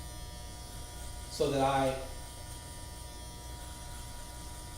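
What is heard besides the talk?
electric hair shaver cutting hair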